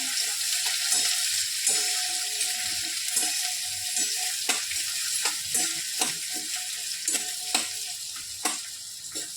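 Chopped onion sizzles steadily in a hot pan for Marathi home cooking, frying until soft, with intermittent scraping and stirring clinks over a constant close, fairly loud crackle and no voices.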